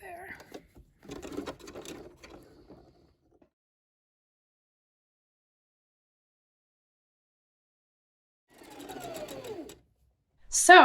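A sewing machine stitches parallel rows across a wrap pants waistband in two short close runs separated by a long silent pause, and a sharp mechanical whine sounds at the very end.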